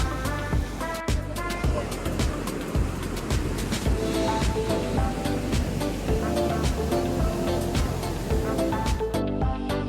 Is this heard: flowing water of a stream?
yes